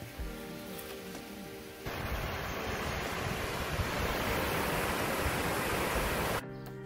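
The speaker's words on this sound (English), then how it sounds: "Now it's time to get up close and personal to these gorgeous waterfalls." The Ouzoud waterfalls in Morocco pour with a steady, dense roar of falling water. It swells louder partway through and stays constant and close, with no voices.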